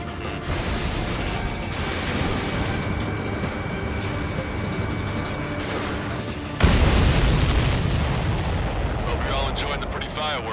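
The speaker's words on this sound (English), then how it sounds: "Firing railgun." Railgun fire and explosions in the Ace Combat 7 air combat game: a loud, continuous roar of heavy gunfire and booms, broken by a sudden massive blast partway through that rumbles on, with faint radio chatter beneath.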